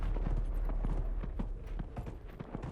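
Horse hooves gallop in Dragon Age: Inquisition, a steady clip-clop beat of repeated thuds over a low, constant rumble, moderately loud and with no talk over it.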